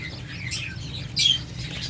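Young quails, about eighteen days old, give a few soft scattered chirps with one brighter peep, close by and brief, with no talking.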